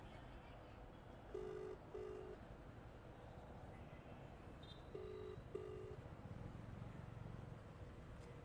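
A phone call on speakerphone carries a faint ringback tone in two pairs of short, even beeps, over a steady low hum.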